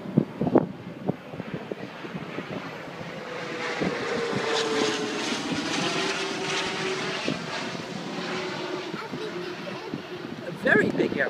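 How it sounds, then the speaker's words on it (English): A very big airplane passes overhead, its broad engine roar swelling steadily for several seconds and then fading, while a man coaches a child playing a game of getting a ball into a hole nearby. "A very big airplane."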